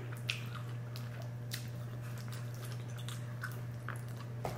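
Quiet, close-up chewing of sausage from a seafood boil, soft wet bites and squishy mastication over a low steady room hum.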